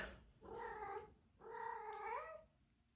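Two drawn-out meows from a domestic cat, each about a second long with a rising, harmonic tone, close by and clear with a short pause between them and no talking.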